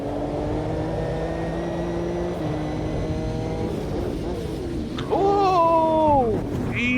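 A Honda car engine in a racing video game, heard from outside as a steady droning hum with tonal whine that shifts pitch, rising sharply then sliding down near the end.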